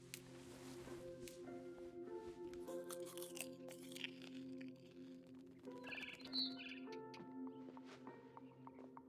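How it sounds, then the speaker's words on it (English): Bright barn swallow chirps and tweets ring out over a steady ambient hum in the video game What Remains of Edith Finch, with crunchy chewing noises scattered throughout. "Then I heard chirping outside my window."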